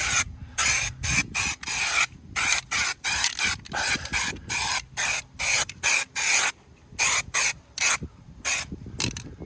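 Spray paint hisses onto a refurbished seat part from a Leyland Atlantean bus in a long run of short, sharp, close bursts, each spray separated by a brief silence.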